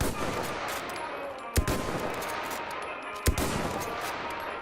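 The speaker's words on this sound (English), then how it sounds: "Now, if I fire, say, 9 bullets" Rifle fire from the video game Call of Duty WWII: two sharp, close shots spaced well apart, standing out above a steady, noisy game background.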